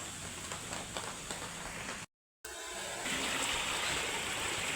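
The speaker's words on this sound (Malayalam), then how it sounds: "നമ്മളെ വെള്ളച്ചാട്ടം കണ്ടാ" Continuous rushing of a stream flowing from a waterfall, steady and fairly close, broken by a brief moment of silence before the water noise resumes slightly louder.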